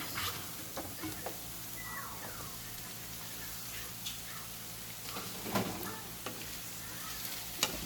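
Andouille sausage frying in a pan with vegetables, a faint steady sizzle with scattered pops and crackles throughout.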